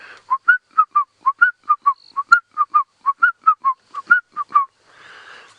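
A person whistles an imitation of a Shelley's francolin call: a rapid, rhythmic run of about twenty short, bright notes in repeating phrases, clear and close.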